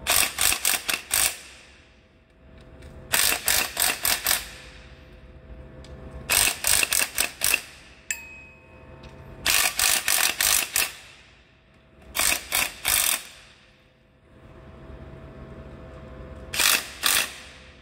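An air gun tightens the bolts on an engine sump gasket in six separate bursts of rapid rattling impacts, each about a second long, with quiet gaps between them.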